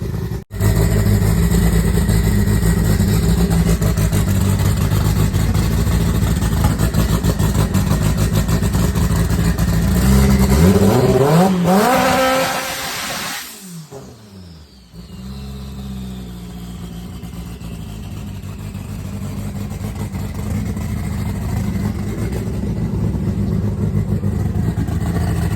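A turbocharged Mk5 Golf race car with a D-series engine idles and burbles loudly, then revs sharply in a rising and falling sweep before dropping briefly and settling back to a rough, steady drone at a European drag racing final.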